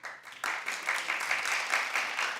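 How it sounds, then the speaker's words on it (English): Scattered handclaps from a handful of audience members at a talk, light and uneven, with several individual claps picked out over a sparse, modest patter that never builds into full applause. "Clap if you would."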